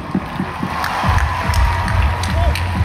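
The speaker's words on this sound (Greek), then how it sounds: "ένα δυνατό χειροκρότημα για σας." A crowd at a live concert at Moni Lazariston in Thessaloniki, Greece, breaks into sustained applause and cheering that swells after the first second, with dull low thumps underneath.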